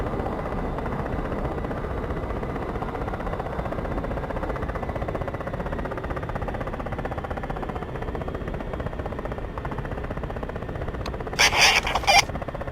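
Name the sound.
helicopter starting its rotors at a military base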